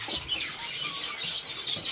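Kakariki parakeets chirp in a quick, steady chatter of high tweets, fairly close and continuous, with no talk.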